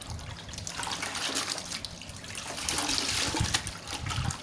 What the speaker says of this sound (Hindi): उसमें पोछा को अच्छी तरह से रगड़ते हुए अच्छे से निचोड़िए